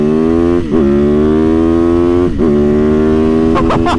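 A Yamaha MT-09 motorcycle engine pulling hard, a loud steady rising growl up close, interrupted by two brief dips like gear shifts, with wind noise toward the end.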